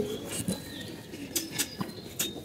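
A Kanipur pigeon coos in low throaty bursts, joined by a few sharp flaps or clicks, close and fairly clear with no voices.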